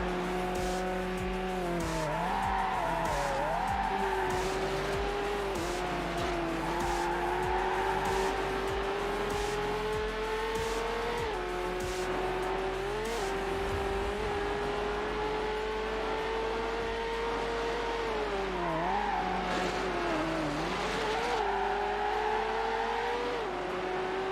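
Supercars race in Need for Speed Hot Pursuit 2, engines revving and shifting pitch as they accelerate, with tire squeals and skids through corners, loud and continuous.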